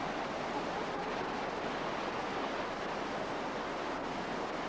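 A tall waterfall on Maui roars as a steady, broad wash of falling water, constant and unbroken throughout, heard from a moderate distance with no voices.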